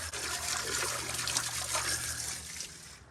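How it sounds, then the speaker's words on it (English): A garden hose sprays water onto the dirty coil of an air conditioner unit being cleaned, a steady hissing, splashing rush close by, easing slightly toward the end, with no voices. "So now I've turned the hose up and I'm gonna keep it off of the coil and just see if I can stir up some of this dirt"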